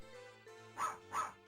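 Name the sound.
dog bark samples from Casio Loopy game Puppy Love Story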